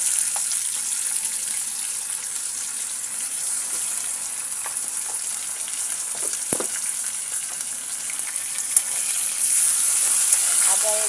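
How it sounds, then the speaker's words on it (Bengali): Masala of ginger-garlic paste, browned onion and bay leaves frying in a pan for a chicken curry, a steady soft sizzle throughout with a few faint clinks, no talking. "আদা এবং রসুন বাটাটা দিয়ে আমি এখন মশলাটা ভেজে নেব।"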